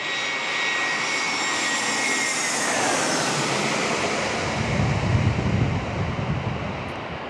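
Airbus A321 jet engines at San Diego International Airport, a steady broadband roar with a high whine that slowly sweeps downward as the airliner passes, holding loud throughout with a deeper rumble near the end.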